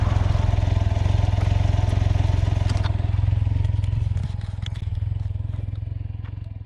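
A Can-Am Ryker Rally three-wheeler engine runs with a steady low throbbing drone, close and loud, with light clatter and scraping over it and a slight drop in level partway through.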